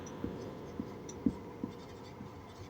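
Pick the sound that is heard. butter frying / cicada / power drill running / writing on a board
writing on a board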